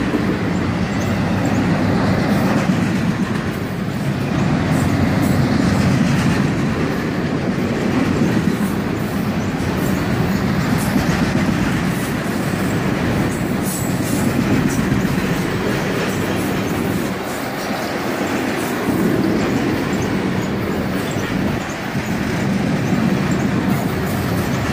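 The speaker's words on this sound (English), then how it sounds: "Here comes the end of the train, finally." A long CSX freight train of empty cars rolls steadily past, a continuous loud rumble with rhythmic clickety-clack of wheels over rail joints and occasional faint wheel squeal, sustained for the whole stretch.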